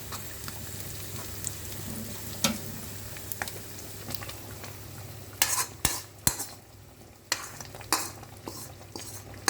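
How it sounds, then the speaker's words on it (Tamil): Hot oil sizzles and crackles in bursts as a tempering is poured into a pot of sambar, with scattered clinks and stirring sounds nearby. "இதை எடுத்து இப்போ அந்த சாம்பாரில் ஊற்றிக்கணும்."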